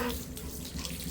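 Steady rush of water pouring from a tap into a sink, continuous and fairly close, with no one speaking.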